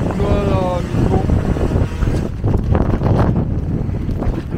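Wind gusts buffet the microphone outdoors while cycling to a supermarket on a Friday evening in bad weather, a loud, continuous low rumble that swells and dips throughout.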